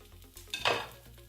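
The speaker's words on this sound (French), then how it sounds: "ça fait 2 minutes que la deuxième phase de ma quesadilla est en train de cuire" A quesadilla filled with minced meat and cheese cooks in a pan, giving a short burst of sizzle and a stirring scrape that swells and fades within a second, close and fairly quiet.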